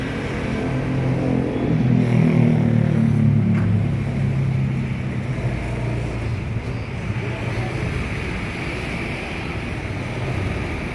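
A BSI Jetbus 5 coach drives along a road, giving a steady low engine rumble and road roar that swells slightly early on, then holds constant and fairly loud throughout.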